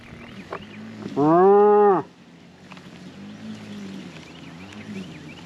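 One loud, drawn-out moo from a steer or cow close by in a farm feeding pen, rising and falling over about a second, against quiet outdoor background.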